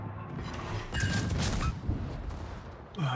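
Warship turret guns fire armour-piercing shells in World of Warships, a loud booming salvo that rolls on and then tails off under game noise, with no talking.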